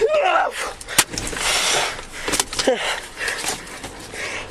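Gunfire at a police crime scene where two officers died: one sharp, loud bang stands out, with further cracks a little later, all over a busy wash of noise and a voice talking.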